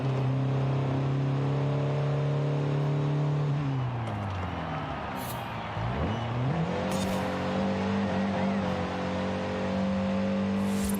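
A 1970 Datsun 510 engine in Forza Horizon 5 drones loudly at steady revs, drops sharply as the driver shifts, dips low once more, then climbs again with brief high hissing bursts over the continuous engine note.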